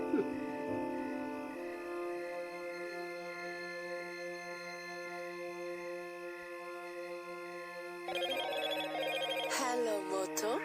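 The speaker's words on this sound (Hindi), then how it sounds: "ये फोन कौन कर रहा है भाई?" A telephone rings steadily with a sustained electronic ringtone for about eight seconds, then a second, brighter and busier ring tone joins in near the end, both close and fairly loud with no talking.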